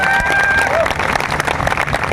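An audience at a direct-selling company speech event claps together in a dense, continuous burst, with a few voices and cheers mixed into the steady applause.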